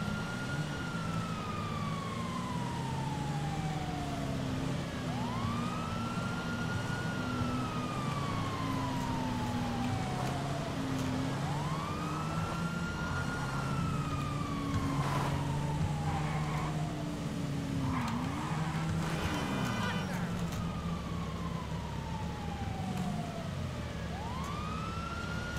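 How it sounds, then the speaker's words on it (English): Police sirens wail during a car chase in GTA 5 Online, several rising and falling sweeps overlapping under steady engine and traffic noise, continuous and fairly loud throughout. "It's the slowest police chase in the world."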